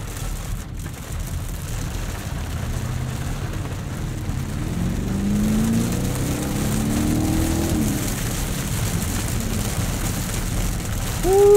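BMW Alpina XB7 SUV in Sport Plus mode, its engine and exhaust droning steadily from inside the cabin and swelling gradually as it pulls on a wet road.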